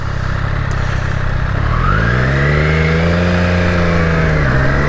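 A 2020 Triumph Street Triple RS motorcycle accelerating hard through quick-shifted gears, its loud engine whine climbing steadily in pitch with a brief dip at a shift, heard close and continuous with no voices.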